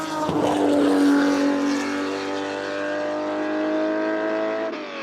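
A Ferrari 250 GTO's engine runs loud and close, its harmonic tone holding steady under light throttle before cutting off near the end, with no talk.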